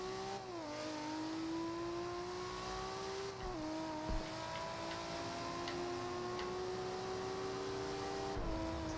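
A Nissan Skyline GT-R from the film, driven in the Forza Horizon racing game, accelerates hard toward top speed. Its engine tone climbs steadily, drops briefly at each of a few gear shifts, then climbs again, loud and continuous with no talk.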